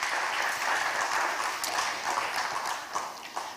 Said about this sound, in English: let's give our great Elimat a wonderful round of applause.